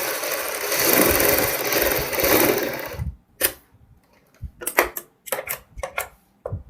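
Electric sewing machine stitching the neckline of a kurti, a steady loud run of about three seconds followed by short, separate bursts of stitching with gaps between them.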